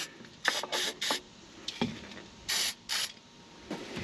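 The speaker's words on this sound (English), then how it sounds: "Then I'll give them another little spray right there." Several short bursts of aerosol spray hiss out onto U-bolts on a Nissan in quick succession, with small metallic clicks and clanks in between, close and fairly loud.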